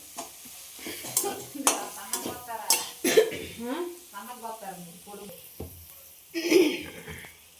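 Ivy gourd (tindora) sizzling in a pan as it is stirred, with scraping strokes and bursts of frying hiss up close, a cough and some talk mixed in.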